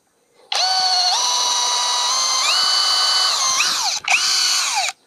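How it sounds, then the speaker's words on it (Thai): An IMAX IMCD-20BL cordless drill with a large bit bores into hardwood, whining loudly and steadily with pitch shifts as the load changes, stopping briefly, then spinning up again for a second short burst. "เดี๋ยวจะเจาะอีกรูนึงนะครับมุมนี้"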